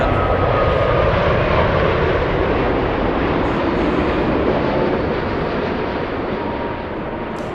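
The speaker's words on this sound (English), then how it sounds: "There goes Japan Airlines in a very short flight of 9 hours." A Japan Airlines airliner passes at LAX, producing a loud, steady, broad jet engine roar that holds for several seconds and then eases slightly as it moves away, with no voices.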